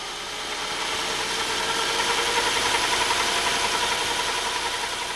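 A warm car engine with Bosch KE-Jetronic injection idles steadily, a continuous mechanical hum with a faint rhythmic knock and slight rattle, swelling gently after the first second.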